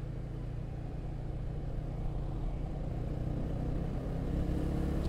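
A coach bus rumbles along a road in Kon Tum toward Pleiku, heard from a motorbike, a steady low engine drone and road noise that grows slightly louder toward the end.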